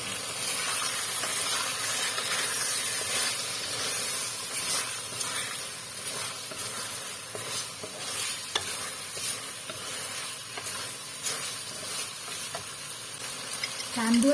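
Tapioca starch slurry hits a hot pan of fried eggplant and tofu, producing a continuous close sizzle and hiss with scraping stir strokes throughout, fairly steady in level.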